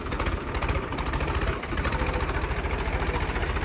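Mahindra 265 DI and Sonalika DI 750 tractor diesel engines labour uphill on a climb test, a loud, steady low knocking chug with a brief dip midway before the hard pulling resumes.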